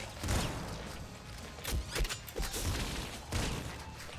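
Golden shotgun blasts in Nuclear Throne, a run of loud, dense retro gunfire bursts with sharp repeated impacts, mixed with chaotic game effects and no talking.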